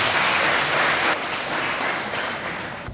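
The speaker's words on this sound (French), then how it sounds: "Je vous demande de l'applaudir très fort." An audience at an excellence awards ceremony in Adjohoun applauds loudly for a top-ranked school, producing a dense, sustained wash of many hands clapping that holds steady for the whole span.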